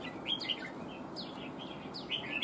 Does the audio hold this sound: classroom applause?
no